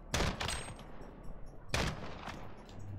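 Gunfire in the video game Call of Duty: Modern Warfare: two sharp, close shot bursts about a second and a half apart, each with a brief echoing tail, over quiet background.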